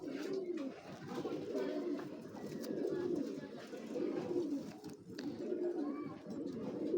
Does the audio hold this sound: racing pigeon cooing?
yes